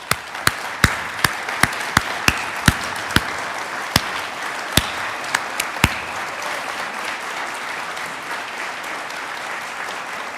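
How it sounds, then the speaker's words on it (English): An audience applauds Vietnam War veterans at a National Vietnam War Veterans Day welcome home ceremony. A few sharp, separate claps open it, then dense, steady clapping fills the room and carries on evenly throughout. "But stand one more time so we give you a big round of applause."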